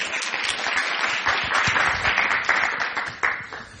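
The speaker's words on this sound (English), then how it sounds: "I guess we can send an applause to them." An audience at an economic policy forum in Berlin gives brief, steady applause, a dense patter of clapping that holds evenly and fades slightly at the close.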